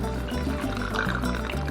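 Cuban rum pouring for a mojito, about two ounces, as a close, steady liquid stream filling a glass for under two seconds with no talk.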